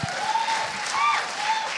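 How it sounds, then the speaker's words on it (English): Steady applause from a crowd fills the whole moment, dense clapping with a few voices mixed in. "Round of applause."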